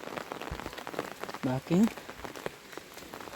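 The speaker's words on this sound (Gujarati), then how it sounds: "ફાઇનલી આવો વરસાદ છે" Heavy rain drumming steadily on an umbrella outdoors, a dense close patter throughout, with someone speaking briefly over it.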